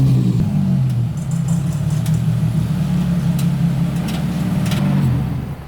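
A Nissan 350Z engine revs hard and steadily on a street run, a loud, close, sustained drone that holds high throughout before easing off at the very end.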